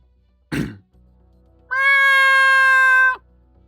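A person mimics a cat's meow with a long, loud, sustained tonal call after a short throaty sound, standing out clearly against quiet background.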